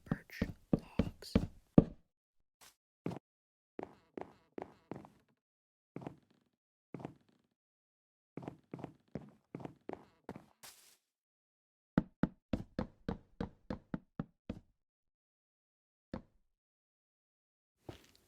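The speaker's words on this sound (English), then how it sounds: "Next up, we place some birch logs." Birch log blocks placed in Minecraft, giving crisp woody knocks in quick bursts and spaced runs, some rapid clusters of five or six, others single, all close and dry against silence.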